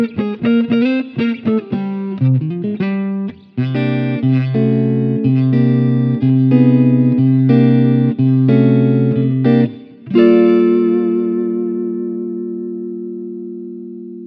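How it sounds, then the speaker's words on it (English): Electric guitar played through a blackface amp model with front compression, spring reverb and a 4x10 cabinet: a run of quick single notes, then sustained chords struck repeatedly, ending on a long ringing chord that fades with reverb tail. "I went and I got a blackface model of an amp, a little bit of compression in the front just to give it some sustain, a spring reverb"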